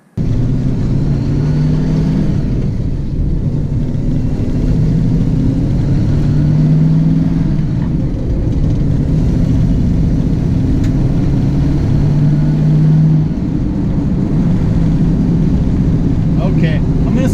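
A first-generation Ford Mustang's engine drones loud and steady from inside the cabin while driving, with low rumble and pitch rising and easing with throttle. Speech is likely present but is not clearly visible over the engine.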